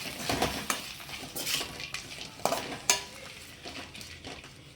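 Grated coconut for mint chutney sautés in a pan: a spoon scrapes and clinks against the metal in irregular strokes over a soft background sizzle, close up with no talking.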